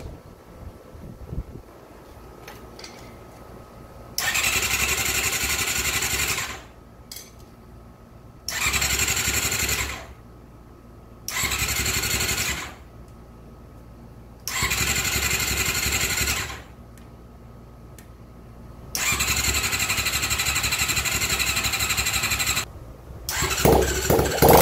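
An old, neglected motorcycle is cranked repeatedly without a key, each start attempt a loud rasping burst of several seconds separated by short pauses, ending in a longer run of the engine catching and sputtering.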